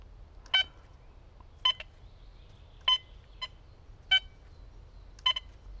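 A Quest X10 IDmaxX metal detector gives short electronic beeps, about five evenly spaced over a few seconds, each a brief bright tone above a low background hum, with no talking.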